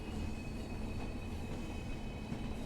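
A Welsh Class 142 Pacer train pulling into Cardiff Queen Street station, heard as a steady low rumble of wheels and engine with a thin high squeal running through it.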